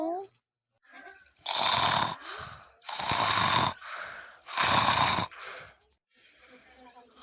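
A person sleeping by the water snores in three long, loud, rasping bursts with short pauses between them, close and alone, followed by a softer trailing breath.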